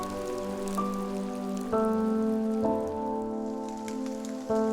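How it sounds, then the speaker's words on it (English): Steady continuous rainfall of the plum rain season in Jiangnan, an even pattering wash heard throughout, with sustained musical tones layered over it. "June and July are the plum rain season in the Jiangnan region, with continuous rainfall lasting for about a month."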